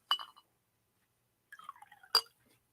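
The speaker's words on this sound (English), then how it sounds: "I've already prepared a glass, rocks glass, with a smidgen of water in there. So let's give that a pour." Whiskey poured into a rocks glass holding a little water: a clink of glass, a pause, then a short trickle of liquid ending in another bright clink, quiet and close.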